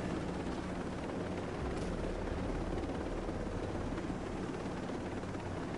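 A helicopter in a PS4 video game produces a steady, dense rotor and engine roar that fills the whole stretch without letup, loud and close, with no talking over it.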